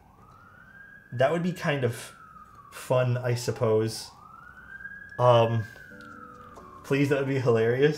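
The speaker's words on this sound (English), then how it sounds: "Sorry for the sirens in the back." A wailing siren rises and falls in long sweeps in the distance, heard twice while people talk over it nearby.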